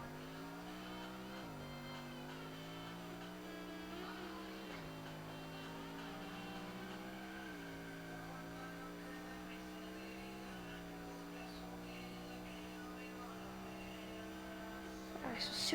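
Cars racing on a highway in the Roblox video game, with a steady engine drone that repeatedly rises in pitch and drops back as gears shift, heard throughout with no pause.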